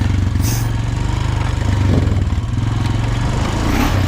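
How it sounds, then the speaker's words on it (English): Honda Foreman 400 ATV engine with loose muffler baffles, running loud and close with a steady rapid low-pitched chugging pulse and a slight rattle, no speech over it. "This thing's a little bit noisier than it should be stock. It's got I don't know, it's got some loose baffles in the muffler"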